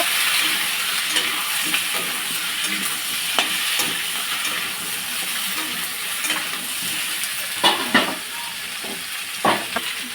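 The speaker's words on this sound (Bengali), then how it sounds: "এখন আমি এই যে কেটে রাখা সবজিগুলো দিয়ে দিলাম। এগুলো আমি ভালোভাবে ভেজে নেব।" Chopped vegetables frying and being stirred in a pan for egg bhuna khichuri, a steady close sizzle broken by scraping spoon strokes and a few sharper clacks against the pot.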